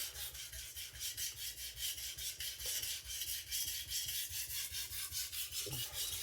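A MagnaCut steel chef knife is drawn across a whetstone in fast, steady back-and-forth strokes, a close, even gritty rasp that repeats without pause.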